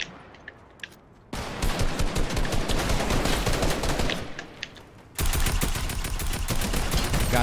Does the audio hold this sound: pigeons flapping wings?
no